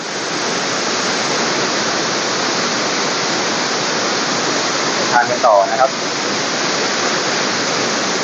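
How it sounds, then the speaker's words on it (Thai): Tat Mu Pa waterfall near Pakxong in Champasak, Laos, roars in a steady, dense, loud rush of falling water throughout, while someone speaks briefly over it midway. "อันนี้คือ น้ำตกหมูป่านะครับตาดหมูป่า"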